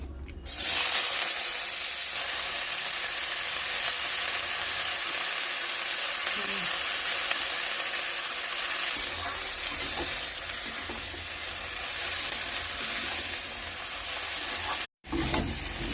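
Vegetables frying in white oil in a heated kadai for chowmein, a steady broadband sizzle running close and loud throughout with faint stirring scrapes, briefly cut near the end.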